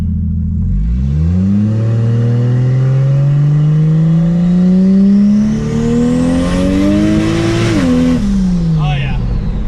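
Cummins diesel engine in a 3/4 ton pickup truck pulling hard under turbo boost, a loud rising drone that climbs steadily in pitch over several seconds, then drops back as the throttle eases, with a whistling spool on top.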